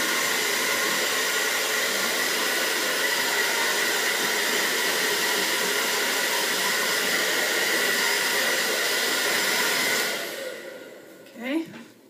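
A hair dryer blows steadily and loudly on naturally curly hair for about ten seconds, then cuts off, leaving a brief soft rustle near the end.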